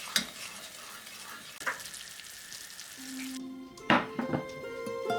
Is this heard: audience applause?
no